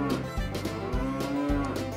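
A dairy cow moos loudly and close by in a milking setting, a sustained low bellow with a couple of overlapping calls in the short stretch.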